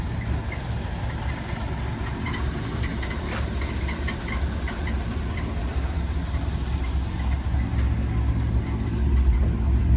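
A 1964 Buick Riviera engine idles steadily with a low, continuous rumble and faint knocking, nearby and unbroken throughout.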